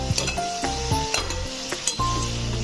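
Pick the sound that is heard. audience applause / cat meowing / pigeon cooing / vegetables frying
vegetables frying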